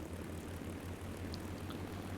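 Po-2 biplane engine droning steadily in a steep dive in War Thunder, a low continuous propeller hum with no talk over it.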